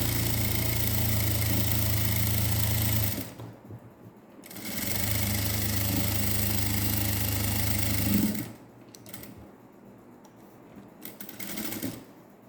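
A sewing machine stitches a net neck blouse in close bursts of steady whirring hum, pausing between runs, with a couple of shorter stitching spurts near the end.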